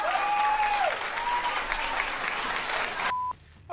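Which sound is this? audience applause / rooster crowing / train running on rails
audience applause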